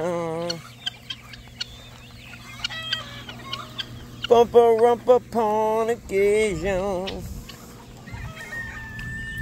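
Chickens cluck and a rooster crows loudly nearby in bursts, with a person speaking briefly at the start.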